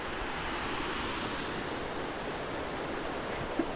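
Steady, broad rushing of water falling at a waterfall fills the whole clip, constant and fairly close, with no voices.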